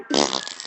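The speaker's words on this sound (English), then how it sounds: "I got super farts." A cartoonish fart sound effect gives one short, buzzy, close blast lasting under a second, with no voices over it.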